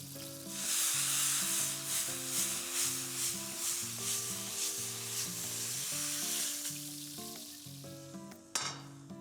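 Mushrooms sizzle steadily as they fry in a hot pan for lomo saltado, a bright continuous hiss over a softly playing melody, ending with a brief clatter.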